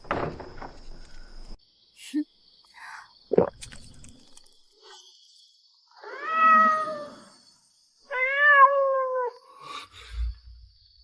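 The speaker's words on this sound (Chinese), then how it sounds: "这将军府哪儿来的野猫？" A cat meows twice in a grand general's residence at night, each call a clear rising-and-falling tonal cry, the second a bit longer, with a few thuds and rustles around them and no talking.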